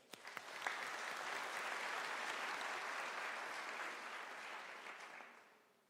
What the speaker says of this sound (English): let us give Professor Tlale a firm round of applause